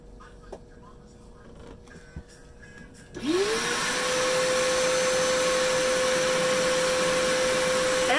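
A 1936 Presto K8 portable record lathe starting up and cutting a record: a few quiet clicks and handling sounds, then a motor whine rises sharply and settles into a loud, steady hum with hiss.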